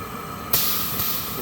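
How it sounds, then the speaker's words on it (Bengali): A sudden sharp hiss bursts out and then settles into a sustained sizzle as salt water hits a very hot wok. "এবার কড়াই গরম হয়ে গেছে আমরা নুন জলটাকে কড়াইয়ের মধ্যে মেরে নেব"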